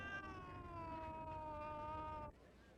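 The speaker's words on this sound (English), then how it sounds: "John, can this cat really meow in 3 languages" A cat gives one long, drawn-out meow on a 1972 Dallas television broadcast, steady and tonal for about two seconds before cutting off abruptly, with no talk over it.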